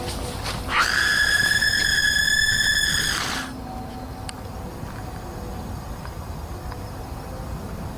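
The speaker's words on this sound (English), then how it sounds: "Some people claim that the scream is fake and edited in." A piercing, high-pitched scream with a harmonic, whistle-like edge rings out for about three seconds on a dark forest path lined with trees, then cuts off and leaves a quiet, faintly buzzing outdoor hush.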